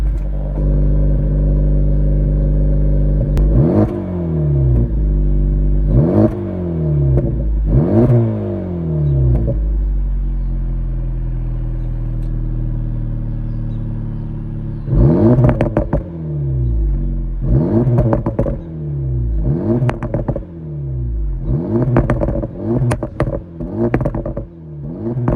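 A 2024 Acura Integra Type S in sport mode sits close by, its engine and exhaust idling with a low rumble. It revs in sharp bursts, first a few spaced single blips, then a quicker cluster of repeated revs.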